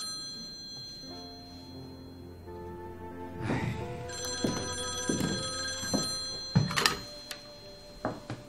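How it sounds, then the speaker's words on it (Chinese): An old-style telephone in a spy drama rings with a bright, bell-like tone, mixed with several heavy thunks and clunks that grow louder toward the end, with no voices. "听电话去。"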